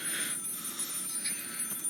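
An old-style telephone bell rings in the horror game Maid of Sker, a steady, somewhat faint trill lasting the whole moment with no talk over it.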